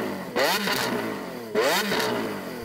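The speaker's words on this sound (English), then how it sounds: "Can we have a listen to the Aventador S?" Lamborghini Aventador S V12 engine blipped twice in quick succession, each rev a loud, close snarl that rises sharply then sweeps back down, with a brief lull between.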